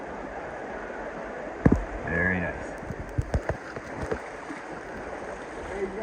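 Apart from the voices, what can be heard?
waterfall in the Narrows river hike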